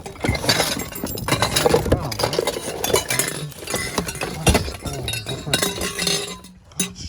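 An old glass jug salvaged from the trash is handled, giving off several irregular clinks and knocks amid rustling and thumps, with brief quiet murmurs of speech.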